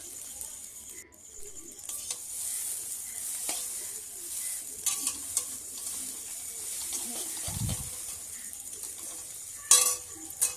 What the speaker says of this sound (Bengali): চাউমিনকে ভালো করে নাড়তে হবে